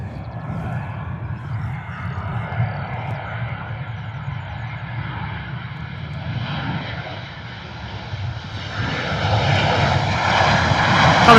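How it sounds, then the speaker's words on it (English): Ryanair Boeing 737 from Dublin on landing approach, a steady loud engine roar that swells nearer toward the end. "Lots of rudder work going on from the pilots up there on the approach of this Ryanair 737"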